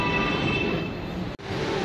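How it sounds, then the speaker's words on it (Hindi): Steady rumble and hiss of a metro train moving at MG Road metro station, continuous rail noise with a brief sharp dropout near the end, no voices. "ये MG रोड मेट्रो स्टेशन ऐसा है"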